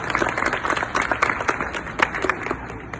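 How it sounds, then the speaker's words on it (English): An audience of children at a school visit claps together in a lively, uneven burst of close applause with a few sharper individual claps standing out. "give yourself a round of applause for coming here"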